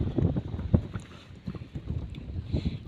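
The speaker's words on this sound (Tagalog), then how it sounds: "Ayan o, lakas ng hangin." Strong wind gusting outdoors on a mountain fishing spot, buffeting the microphone in rough, uneven bursts of low rumble with a few louder gusts, close and fairly loud with no talking.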